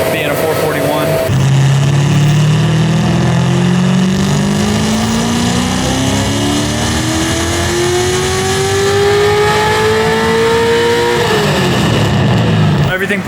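An LS-powered BMW M3, a 441 engine, revs hard on a dyno during a wheel pull, the loud engine note climbing steadily in pitch for about ten seconds before dropping off abruptly.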